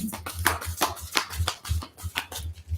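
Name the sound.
shuffling a thick deck of postcard cards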